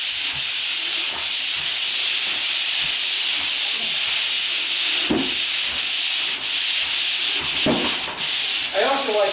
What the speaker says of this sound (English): If you can hear me, this is 120 grit paper.